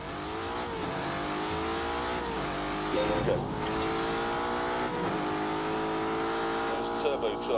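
A turbocharged Lamborghini Urus engine pulls uphill in a driving video game. It makes a steady, loud harmonic drone that rises and falls throughout, with a voice talking over it.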